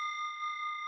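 A meditation bell rings with a pure, sustained tone during a guided morning meditation, its clear overtones holding steady and fairly soft for just under a second, alone without speech.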